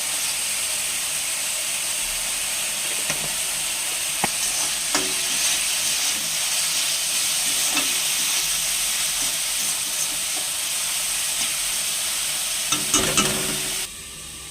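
Chopped banana stem (thor) frying in a pan with salt and turmeric, giving a loud, constant close sizzle broken by irregular scraping and clacking of a spatula as it is stirred.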